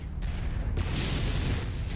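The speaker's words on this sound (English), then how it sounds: "He's got an ammo explosion, it looks like." A mech's ammunition detonates in MechWarrior 5, a dense, sustained rumbling blast with crackling bursts that swells and holds steady, loud and close throughout.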